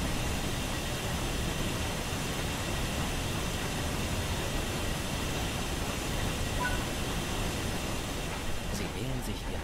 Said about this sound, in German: Jetzt bereiten wir uns langsam darauf vor, den Zug dann auch gleich zum Stehen zu bringen.